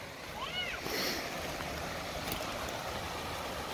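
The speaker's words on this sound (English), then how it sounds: "There's a little waterfalls." Steady rushing water from a small waterfall on a trail at Bedford Reservation in December fills the background at moderate level, with a brief high chirp near the start.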